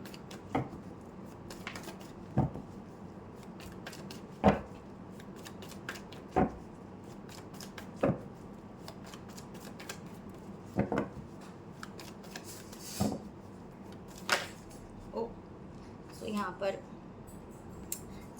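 Tarot cards shuffled and handled for a reading, with repeated sharp snaps and slaps of cards every couple of seconds over a faint background, and a person talking intermittently.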